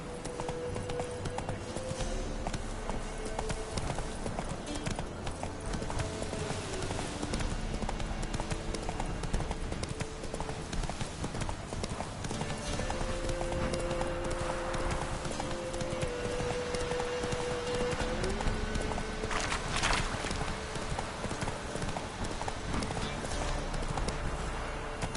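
Roach, the horse from The Witcher 3, gallops steadily, its hooves making a continuous, even clip-clop rhythm at a moderate distance. The hoofbeats run for the whole stretch over a background of game music and ambience.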